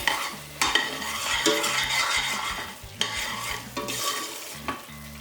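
Cream being stirred into chicken malai handi, a creamy chicken curry, in a pot; steady scraping and wet stirring strokes with soft sizzling underneath, close and fairly loud, with no voices.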